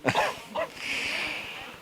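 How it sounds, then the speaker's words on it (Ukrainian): A man gives a short sharp cough, then another brief one, followed by hushed breathy background noise with no clear speech. "Я просто кашлянув."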